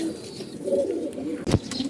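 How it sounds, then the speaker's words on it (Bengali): A black gola racing pigeon coos softly and close by in low, rolling notes, with a sudden sharp flutter or thump partway through. "এটা হলো কালো গোলা কবুতর"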